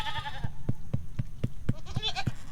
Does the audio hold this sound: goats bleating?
yes